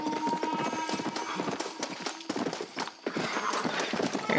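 Horse hooves pound in a steady galloping clip-clop in the Red Dead Redemption video game, loud and close, with a brief whinny and outdoor game ambience.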